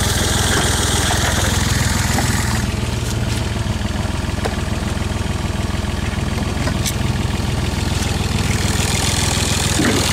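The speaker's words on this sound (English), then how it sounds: "So it's got that little diesel engine," A Smart car's small Mercedes-Benz diesel engine idles with a steady, close, low putter and a rapid, even beat that runs without a break.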